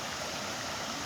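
At French Creek, the river runs over small dams into a steady, broadband rush of water. It is close and continuous, with no voices, over a brief moment.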